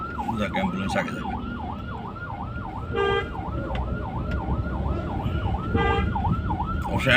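An ambulance siren wails in a steady repeating up-and-down cycle through dense traffic noise, loud and continuous throughout, with a brief horn-like burst now and then.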